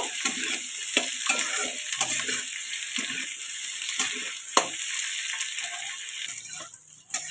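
Raw tomatoes frying in a pan, a steady close sizzle with repeated stirring scrapes and clicks throughout.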